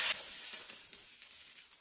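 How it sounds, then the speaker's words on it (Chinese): Steak searing in a hot pan for a panini, giving a soft, continuous sizzle and hiss that starts slightly louder and settles into an even crackle, with no talking. "牛排先煎一下。"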